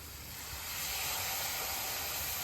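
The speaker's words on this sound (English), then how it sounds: "Oh, look at that sizzling." A steady, close hiss of noodles sizzling in a hot pan, swelling slightly louder partway through, with no voices.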